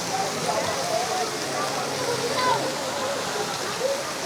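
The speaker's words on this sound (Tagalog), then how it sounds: "Tulay yun doon. May ilog doon. Ayan, may ilog doon." A mountain-fed river rushes in a steady, full, broadband wash that fills the clip, loud and continuous from a near vantage.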